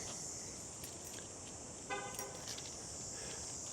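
A parked pickup truck's horn chirps briefly as it locks at a beachside lot on South Padre Island, a short toot or two over steady outdoor ambience with faint footsteps.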